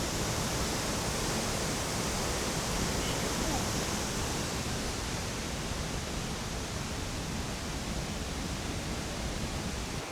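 Tibumana Waterfall in Bali roars as a broad, constant rush of falling water, loud and unbroken throughout, with a faint voice buried in the noise.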